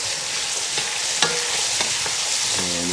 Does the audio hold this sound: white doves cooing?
no